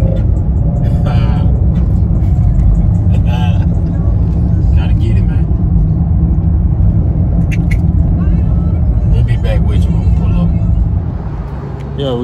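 A car engine pulls on the highway while towing a cargo trailer, a heavy continuous low rumble with road roar, held loud and steady throughout as someone talks over it.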